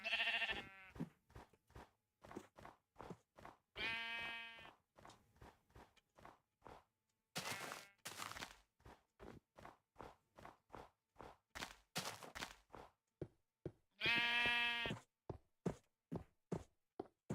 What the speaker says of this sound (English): There's a sheep over there.